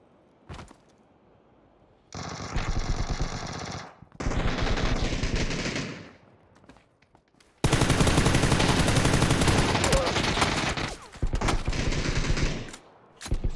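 Bursts of automatic gunfire from a video game shooter crackle loudly in several sustained volleys separated by short pauses, with no talk over them.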